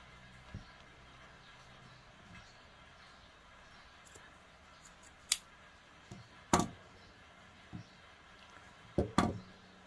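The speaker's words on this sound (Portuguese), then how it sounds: "você vai cortar aqui agora esses cabelinhos, aproximadamente 2 dedinhos só" Scissors trimming the excess strands on a handmade craft rabbit candy holder, heard as a few sharp, isolated snips spaced apart against a quiet room background.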